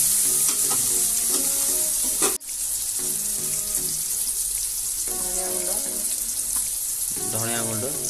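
Spiced potatoes fried in a pan with dry masala, coriander and cumin powder, a steady close sizzle with a spoon scraping and stirring through it, brief voices and tones heard over the frying.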